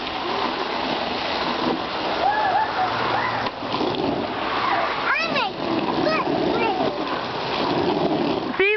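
A garden hose sprays water in a steady, loud hiss and splatter across the whole stretch, with children and adults talking and squealing over it close by.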